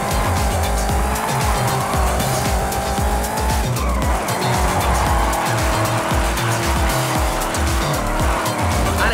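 A car drifts uphill in the Forza Horizon 5 racing game, its engine revving hard and loud while the tires squeal in long, wavering skids.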